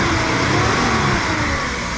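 Engine note of a Mitsubishi Bravo, a steady mid-pitched hum with a faint rasp, loud and close, holding fairly even without clear revving.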